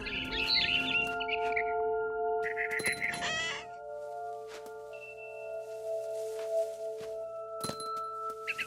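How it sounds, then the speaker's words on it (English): Bird chirping in the video game What Remains of Edith Finch, a barn swallow calling in quick bright bursts near the start, then fading beneath a steady tonal musical drone with scattered soft clicks. "Then I heard chirping outside my window."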